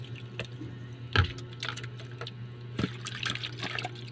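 Water runs and splashes as a peeled onion is rinsed under it, with a few louder clattering splashes over a steady low trickle.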